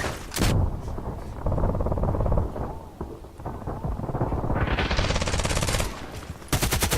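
An AK-12 rifle fires in the online shooter Contract Wars, letting off rapid automatic bursts interrupted by brief pauses. The shots are loud, close and sharp, with booming impacts and a player talking faintly underneath.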